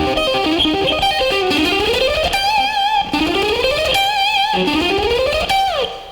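A distorted electric guitar plays fast ascending scale and arpeggio runs in a shred style, rising in rapid repeated sweeps that end on sustained high notes, loud and alone with no talk.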